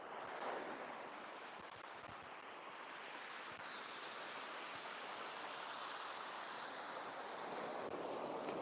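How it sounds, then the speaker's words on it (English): Tidal surge of the sea at Selsey East Beach near high water, a continuous rushing wash of surf that swells slightly at the start and again toward the end, heard faintly with wind noise. "And that was a tidal surge."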